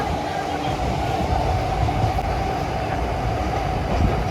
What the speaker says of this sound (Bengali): ওই মেট্রোর সাথে কাঞ্চনজঙ্ঘা এক্সপ্রেস রেস খেলছে